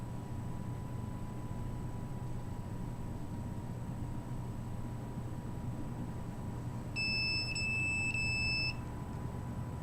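A handheld microwave leakage detector sounds its over-limit alarm: a brief run of rapid high electronic beeps near the end, clear over a steady background hiss, with no talking.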